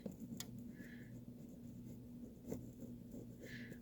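A pencil or pen writes on a math workbook journal page in a quiet room, making faint scratchy strokes in two short bursts with a soft steady background between them.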